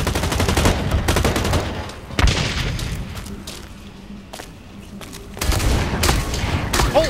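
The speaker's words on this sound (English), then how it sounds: "I'm being shot at" Heavy gunfire in the online shooter video game Blacklight Retribution, rapid automatic bursts and booming shots close by, easing off in the middle before another loud burst, with no one speaking.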